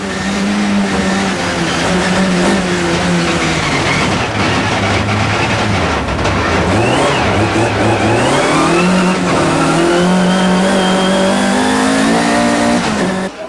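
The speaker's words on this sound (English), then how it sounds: "It was spectacular stuff as the drivers threw the cars into the corners." BMW race cars on an ice circuit at Val Thorens during the 1993 Trophée Andros, engines loud and close, revving up and down through corners with rising and falling pitch and skidding, heard continuously without speech.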